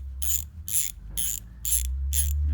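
An SK 45171 ratchet clicks in five separate bursts of sharp, bright ticking, each lasting about a quarter second, with even pauses between them. The ticking sits close and clear above a low steady hum.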